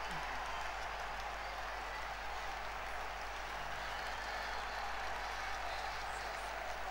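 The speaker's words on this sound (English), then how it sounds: "The crowd go absolutely wild." A Swansea City home crowd in a South Wales derby roars and applauds after a close-range headed goal, a continuous, dense wash of cheering and clapping from the stands, heard at a distance.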